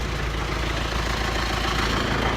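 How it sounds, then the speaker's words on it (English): A tractor engine runs at a steady idle nearby on a farm, a constant low rumbling drone with broad noise and no talking over it. "The tractor."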